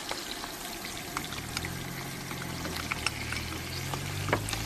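Paprika frying with onions, ham and olive oil in a pan gives a soft, continuous sizzle with scattered small crackles over a faint low hum.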